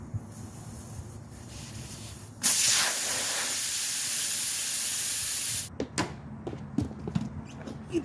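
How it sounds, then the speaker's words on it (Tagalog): Air hisses sharply out of a tire valve as the tire is deflated before breaking the bead from the rim. The loud, steady spray lasts about three seconds and then cuts off, followed by scattered handling clicks and taps. "pasingawin muna natin tong nipple niya kasi may hangin pa"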